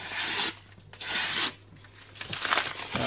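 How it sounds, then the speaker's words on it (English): A VG10 steel knife is wiped off after sharpening on a whetstone: three short, close rasping rubs of cloth along the blade, each about half a second, with brief pauses between. "just gonna wipe off the knife"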